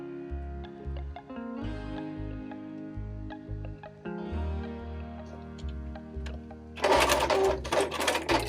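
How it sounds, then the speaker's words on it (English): A sewing machine stitches a quarter-inch seam around half-square-triangle quilt blocks, its motor running in bursts with short pauses, then a louder, harsher stretch near the end. "I've got my 1/4 inch sewn all the way around the outside of this"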